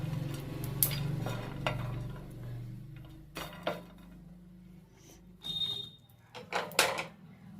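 Cardamom, coriander seeds and cloves are lightly roasted in a pan, heard as sparse dry rattles, scrapes and metallic clinks of stirring with a faint sizzle, mostly quiet between the strokes.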